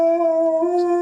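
A single dog howl rings out, loud and close, as one sustained tone that holds steady for about a second and then cuts off, with no other sound around it.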